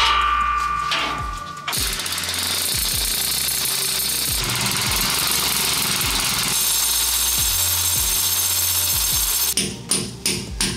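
A power drill with an overly long bit runs in loud, sustained bursts during home DIY work, with repeated low knocks and rattles and brief stops and restarts near the end.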